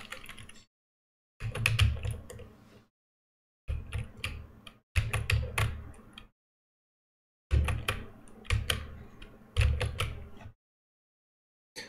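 Rapid key presses on a new computer keyboard while playing the platformer I Wanna Be The Guy, arriving in dense bursts of clicks split by short silences, close and crisp, with no talking.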